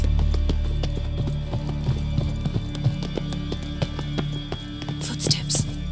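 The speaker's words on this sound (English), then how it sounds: "Footsteps." Footsteps in The Witcher 3 in first-person view, a steady series of soft thuds and clip-clop-like steps at walking pace, close by, over a continuous low background tone, with a brief brighter scrape near the end.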